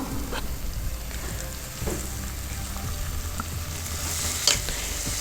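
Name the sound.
curry leaves added to a sizzling pan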